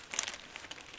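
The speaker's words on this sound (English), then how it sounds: "So let's say I take this scion and just put it into a plain plastic bag." A plain plastic bag crinkles close up as a fruit-tree scion cutting is slipped inside, with quick, irregular rustles over about a second.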